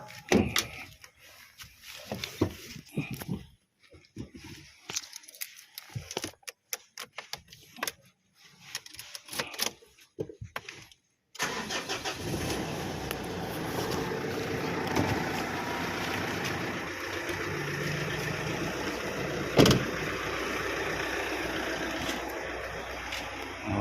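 A pickup truck engine idles steadily while warming up, a continuous low rumble after a stretch of intermittent clattering and knocks.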